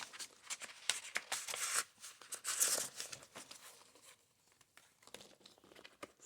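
A paper layer peeling off a page of a large witchy junk journal gives a close, dry crinkling and tearing rustle that runs in bursts for a few seconds, then thins to scattered soft crackles.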